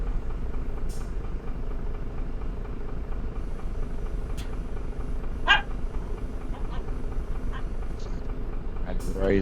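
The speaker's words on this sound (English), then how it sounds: "Sorry, guys. Dog playing." A playing dog lets out a few short, distant barks and yips over a loud, constant engine-like rumble and hum.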